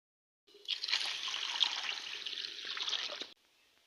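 Broken market-bought lentils are swished and rinsed in water, a continuous close splashing and trickling that starts abruptly, lasts about three seconds, then stops.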